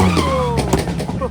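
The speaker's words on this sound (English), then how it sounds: "Harsh have started his drifting" Drifting car on a race track in the rain, with engine revving and pitch sweeps, plus tire squeal and skid noise, all loud and close, continuous for about a second.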